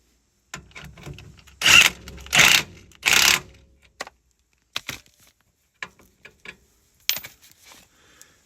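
Sway bar bushing bolts tightened on a 1988 Ford Ranger with a power tool, three loud close bursts followed by scattered short clicks and ratcheting taps, without talk.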